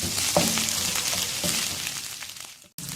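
Ginger garlic paste sizzling in a hot pan for a chicken white korma, a steady close crackling fry with a few stirring scrapes, cutting out briefly near the end.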